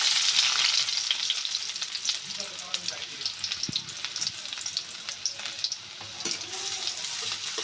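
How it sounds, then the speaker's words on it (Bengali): Onions sizzle loudly in hot oil in a kadai wok, a steady close crackle with scraping stirring sounds throughout. "পেঁয়াজটা ভালো করে একটু নরম করে ভেজে নেব"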